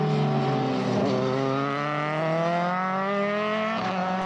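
Formula BOSS single-seater race cars at Mondello Park circuit in Ireland scream past with a sustained, high-pitched engine note that rises steadily through the gears, loud and close, with no talk over it.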